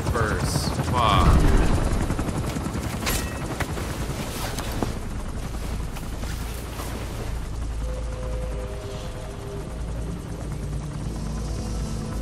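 A helicopter's rotor and engine drone runs steadily through a Metal Gear Solid 5: The Phantom Pain game scene, with a loud burst of gunfire and impacts early on and mechanical clatter over the constant low roar.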